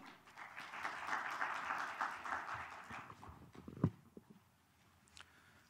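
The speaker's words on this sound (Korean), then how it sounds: "박수 부탁드리겠습니다." Audience applause at an international urban architecture symposium, a dense patter of many hands that builds, holds for about three seconds, then tapers to a few scattered claps and quiet room sounds.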